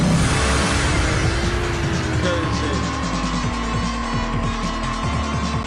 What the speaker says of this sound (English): You gotta race through the streets at night against the AI opponents